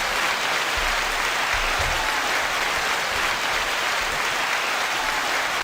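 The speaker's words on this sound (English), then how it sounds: "9 second applause." Audience at a live hip hop panel and performance event applauding, a dense, steady wash of clapping that holds at even loudness throughout and then cuts off.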